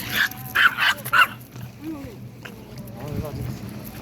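A small dog barks three times in quick succession, then whines and yips softly while people talk nearby.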